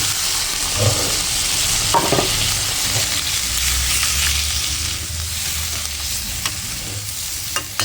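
Dried fish (shutki) sizzles steadily in a hot pan while a spatula stirs and scrapes it in irregular strokes, close and fairly loud throughout with no talking.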